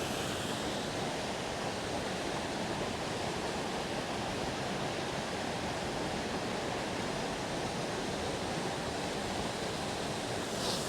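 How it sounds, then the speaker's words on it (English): A waterfall in Northern Ireland roars in a loud, constant broadband rush, steady and unbroken throughout, heard close by with no talking. "the waterfall in the area."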